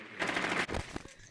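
Rapid automatic gunfire in the tactical shooter Rainbow Six Siege, a short burst of closely spaced shots lasting about a second, fairly quiet in the mix.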